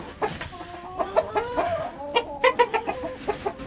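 Chickens clucking in a backyard coop where roosters are kept, a close, busy run of repeated clucks and short calls overlapping in an uneven rhythm with no talk.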